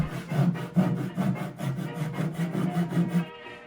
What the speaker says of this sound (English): Carefully using a handsaw is the best way I can do this.